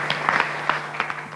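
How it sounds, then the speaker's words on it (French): A small audience at a French-language presentation gives brief, light applause, a few scattered claps at moderate distance against room hum. "On applaudit."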